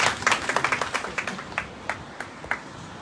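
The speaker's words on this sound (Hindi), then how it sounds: "जोरदार तालियां सभी प्रतिभागियों के लिए।" Audience at a state-level blood donation event claps for participants, a burst of clustered claps that thins into scattered, fading claps.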